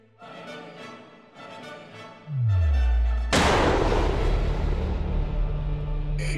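A single heavy sniper rifle shot rings out in the ski-slope shooting game Ski Sniper, a sharp loud blast with a long booming tail after a short descending whoosh, over a backdrop of quiet game music.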